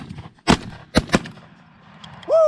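Shotgun blasts during a goose hunt in Georgia: a sharp shot near the start, then two close shots in quick succession, loud and near, with a goose call rising at the end.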